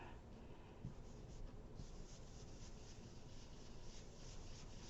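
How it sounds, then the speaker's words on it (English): A blending brush rubs ink onto paper laid under a scalloped die-cut mask to make a blue sky, giving a steady, faint, close scratchy swishing that goes on without a break. "get your blending brush going here."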